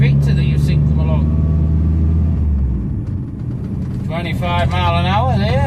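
Vauxhall FB Victor on a road run in top gear, still partly on choke, its engine rumbling steadily and close throughout beneath someone speaking.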